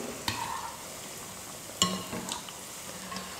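Sweet bonda fries in oil over a medium flame, a soft steady sizzle with a few sharp clinks of a spoon stirring in the pan, no talk.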